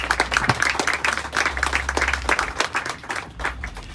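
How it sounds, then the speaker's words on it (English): Applause from a crowd gathered outdoors for the opening of the Oakbrook Community Garden, a steady patter of many hands clapping that holds for the whole stretch and thins slightly toward the end. "Let's give her a nice big round of applause."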